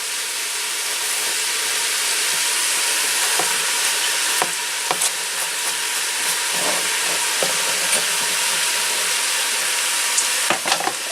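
Sausage frying with celery and onion added, a loud, steady sizzle and hiss throughout, with scattered scrapes and taps from stirring, and no talking.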